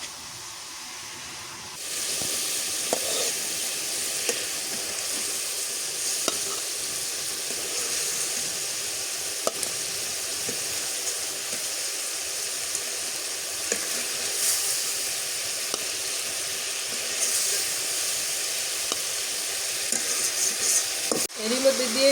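Hilsa fish pieces sauté in a pan with a continuous hissing sizzle and scattered light stirring taps, growing a little busier toward the end.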